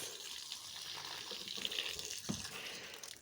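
Water runs steadily through a drip irrigation pipe in a home front garden, a continuous close hiss and trickle with a brief splashy burst near the end and no talking.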